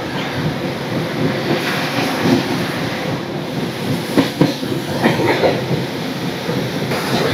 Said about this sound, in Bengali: 8:58 আমাদের ট্রেন ছেড়ে দিল নিউ ফারাক্কা জংশন স্টেশন থেকে।